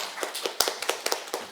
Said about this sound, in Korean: 네, 박수로 맞이해 주세요.